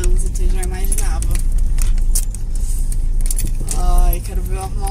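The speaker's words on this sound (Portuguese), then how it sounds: "tem um trânsito, eu já imaginava" Busy city street traffic heard from inside a moving car, with a continuous low engine and road rumble and some rattling, while someone talks over it.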